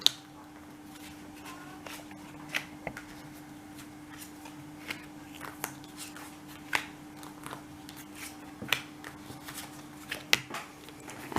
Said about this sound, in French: Je sépare mon paquet en deux.